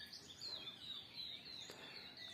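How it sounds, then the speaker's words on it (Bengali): Birds chirp faintly in a rural village near Chandpur, Bangladesh, at dawn, thin repeated high calls heard far off against a quiet background. "গ্রামের সকালবেলায় প্রকৃতির পাখির ডাক অনেক সুন্দর,"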